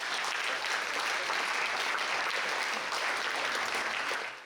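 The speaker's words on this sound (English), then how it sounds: "So big round of applause for all the visiting music teachers" At a Battle of the Bands concert, an audience applauds the visiting music teachers with dense, steady clapping that holds at an even level and fades briefly at the very end.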